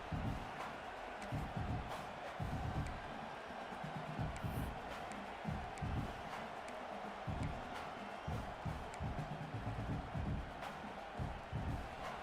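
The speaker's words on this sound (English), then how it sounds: "This crowd bringing serious noise on this huge, huge fourth down play." A stadium crowd at an Oklahoma State versus Oklahoma college football game roars during a fourth-down play: a faint, distant wash of noise pulsing with rhythmic thumps and surges throughout.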